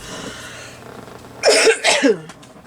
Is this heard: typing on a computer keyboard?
no